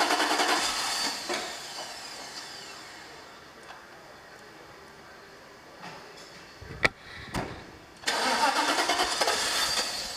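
A 1997 Mercedes-Benz SL500 starter cranks the engine after a fuel pump replacement, a loud whirring crank at the start, a quiet pause with a few knocks, then another loud cranking burst near the end.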